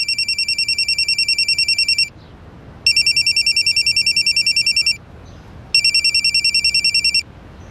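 A telephone rings loudly in three long bursts of rapid electronic trilling, separated by short pauses, with no voices.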